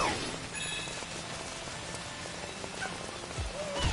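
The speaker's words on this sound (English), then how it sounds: "Ah, heavy rain." Heavy rain in the video game Astro's Playroom, a steady dense hiss of downpour filling the whole clip at moderate level with no talk over it.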